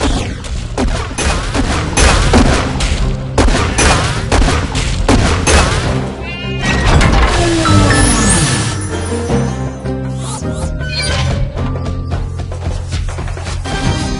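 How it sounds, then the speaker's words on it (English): Cannon fire in the Skylanders video game as a character launches from a cannon to shoot a lock, loud booming blasts and impacts layered over dense game music and effects throughout. "Have your Skylander climb inside the cannon, then use it to shoot the lock."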